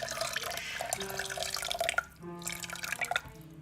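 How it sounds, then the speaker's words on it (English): Water pours into a Toddy cold brew coffee maker, a steady close trickle and gurgle with rising pitched tones as the container fills, briefly dipping before continuing. "The water is almost in there."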